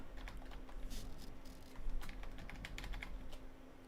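Quiet, close clicking of a computer keyboard as a console command is typed, with quick irregular bursts of keystrokes and brief pauses between them.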